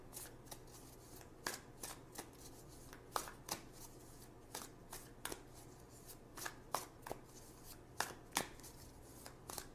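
Tarot cards shuffled by hand in a quiet room, a series of soft, quick riffling bursts recurring irregularly over several seconds, faint and close, with no talking.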